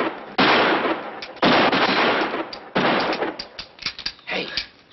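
Gunfire from an old Three Stooges comedy film crackles in loud, rapid bursts and volleys, with short gaps between them and no voices.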